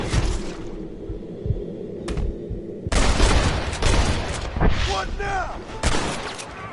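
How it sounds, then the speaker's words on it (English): Gunfire from enemies on a cliff top in a Red Dead Redemption shootout, a series of loud cracking shots and bursts, some close and sharp, with frantic voices talking in between. "They're shooting down on us!"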